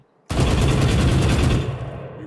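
Automatic gunfire from the game Valorant bursts in abruptly as a rapid, dense, loud stream of shots for over a second, then trails off into a fading echo.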